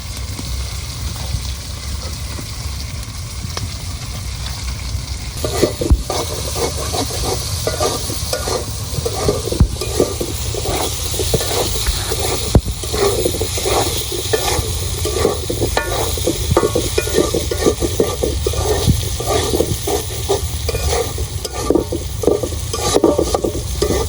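Potatoes frying lightly in oil for a village-style fish curry with potato and tomato, a steady sizzle running throughout, with repeated stirring scrapes joining in after the first few seconds, close and fairly loud.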